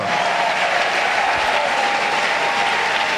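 A church congregation applauds and cheers in one steady, dense wash of clapping that carries on without a break, loud and close throughout.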